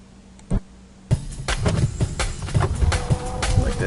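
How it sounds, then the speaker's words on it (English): Boxes clicking as a sound effect: one isolated click near the start, then a dense run of sharp clicks and taps with a faint tonal layer underneath, fairly close and steady. "You can choose between just having the sound effects of the boxes clicking within"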